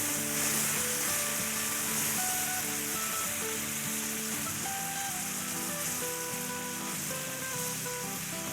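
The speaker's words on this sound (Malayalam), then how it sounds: "അപ്പം നമ്മുടെ തക്കാളി ഇവിടെ നമ്മൾ വഴട്ടി" Tomatoes sautéing in a pan for a spinach stew make a continuous close sizzle with bubbling crackle that stays even and loud throughout, with no voices.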